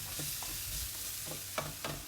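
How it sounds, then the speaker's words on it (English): Paella ingredients, onion among them, are stirred in a frying pan over steady sizzling, with a few sharp scraping strokes of the spoon near the end. "Give everything a bit of a stir."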